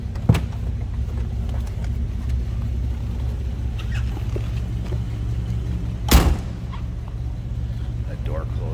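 A 1950 Chevrolet Deluxe convertible's inline-six runs at a steady, low idle, rumbling close by, with a couple of sharp clicks or thumps and a brief loud burst.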